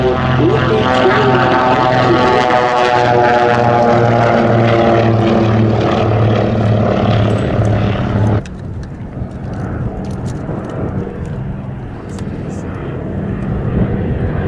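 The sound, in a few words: propeller aircraft taking off at Sywell Airshow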